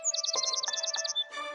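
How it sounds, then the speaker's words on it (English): Small birds such as sparrows or chickadees give alarm calls: a quick, even run of high, sharp chirps repeated about a dozen times, close and clear, over a steady low tone, then a brief higher call at the end. "Many birds cry to sound an alarm when predators near to keep them from harm."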